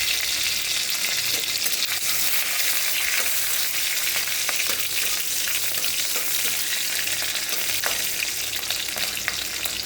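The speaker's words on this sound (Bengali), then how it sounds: "এখন ফোড়নে দেব আমি কাঁচা লঙ্কা আর একটু কালো জিরে" Green chillies and nigella seeds sizzle steadily in hot oil for a spiced mustard-greens curry, a dense, continuous crackling hiss with faint stirring scrapes, close and loud throughout without any talk.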